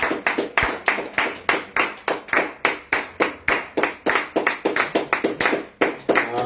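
A church congregation claps in worship, loud sharp claps in a steady, even rhythm, about three per second, continuing throughout without a break.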